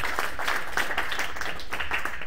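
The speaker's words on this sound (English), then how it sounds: "I think that deserves a round of applause too." Scattered applause from a small classroom audience at a literacy session, a light, steady clapping patter that runs throughout the short clip.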